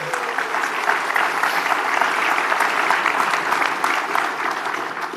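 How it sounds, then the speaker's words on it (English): A roomful of people at a town hall meeting applauds educators, steady dense clapping throughout with faint crowd murmur beneath, no speech over it. "Give them a round of applause"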